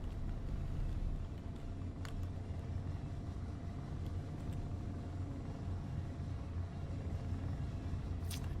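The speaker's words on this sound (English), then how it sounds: "you'll notice this is using atmospheric thrusters" Atmospheric thrusters of a ship in the video game Space Engineers give a steady, low droning rumble that holds at an even level throughout, with no talking.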